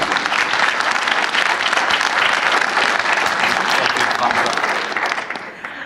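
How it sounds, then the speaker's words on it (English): Strong, dense audience applause at an aerospace conference panel introduction, a sustained roar of clapping that tapers off slightly at the end. "I think you're going to have to clap louder."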